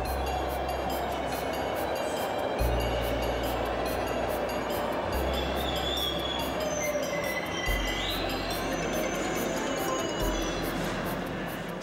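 A subway train rumbles steadily with regular clacks from its steel wheels over rail joints, a loud continuous roar with faint squeals.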